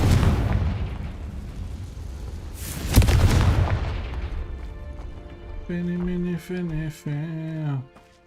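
A blasting spell explodes in a Harry Potter video game, a loud boom near the start with a sharp burst around three seconds, fading into a rumbling tail before tonal game music takes over.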